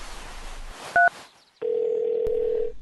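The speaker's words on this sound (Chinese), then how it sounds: "还是先打个电话问一下吧" Two short keypad beeps, followed after a pause by a steady dial-type tone on a phone.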